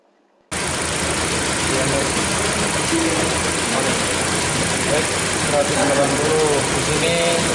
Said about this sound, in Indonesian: Dihidupkan mesin. Mesin dihidupkan.